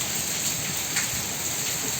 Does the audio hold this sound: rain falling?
yes